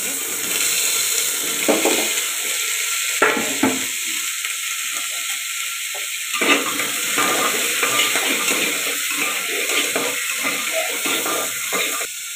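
Vegetables fry in a little oil in a pressure cooker, a steady sizzle with stirring scrapes and occasional clinks of a utensil against the pot.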